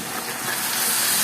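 A loud, steady steaming sizzle as water hits a hot pan of frying pumpkin greens, hissing continuously and building slightly without pause.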